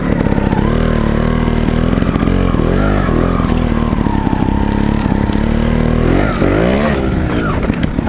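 Gas Gas trials motorcycles ridden hard by top-level riders, engines loud and close, revving and bogging in continuous rising and falling bursts throughout.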